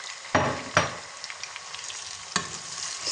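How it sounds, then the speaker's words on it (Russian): Onions and tomatoes sizzling in a pan on the stove, a steady loud fry punctuated by a few sharp bursts as the vegetables are stirred or tossed in, with no talking. "Сначала обжариваем лук. Лук уже слегка прожарился, стал прозрачным. Теперь я закидываю помидоры."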